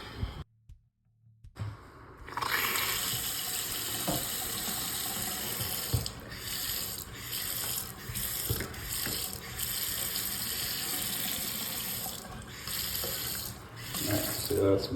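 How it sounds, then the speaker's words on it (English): Water gushes steadily from a repaired sink faucet after a brief silent gap, a continuous close splashing stream broken by a few faint clicks and handling knocks. "Turn the water back on."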